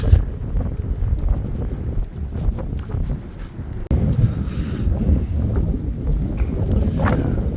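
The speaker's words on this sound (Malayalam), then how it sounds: "നല്ല കാറ്റുണ്ട് ഗൈസ്, നല്ല കാറ്റാണ്" Strong wind roars steadily across a microphone at Sela Pass, a high mountain pass near Tawang, with gusty low rumbling buffets throughout and a sharp surge midway, no voices heard.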